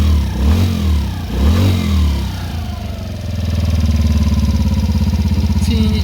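A 2016 Yamaha Raptor 90 ATV engine, still warming up after carburetor cleaning and repair, running close and loud: a couple of rising and falling revs, then a steady, slightly uneven throbbing idle, with no talking.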